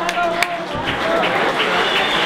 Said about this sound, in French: que je vous demande ma foi d'applaudir